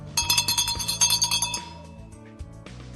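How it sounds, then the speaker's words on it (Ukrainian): A bell rings in a Ukrainian peace song, struck repeatedly in a quick run of bright metallic strikes over a steady low musical backing, then fading into sparser tones with the music continuing. "Цей дзвін, як пам'яті мить."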